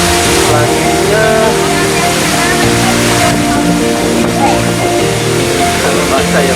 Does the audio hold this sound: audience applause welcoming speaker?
no